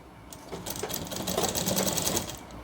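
Sewing machine stitching a shirt seam, its steady rapid mechanical whir running continuously and fairly close, swelling slightly in the middle of the stretch with no talking.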